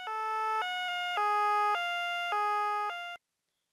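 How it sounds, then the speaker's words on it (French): An ambulance siren cycling between two tones over about three seconds, steady and fairly clean, with the pitch stepping as in a Doppler demonstration before cutting off into silence. "Le son émis par cette ambulance"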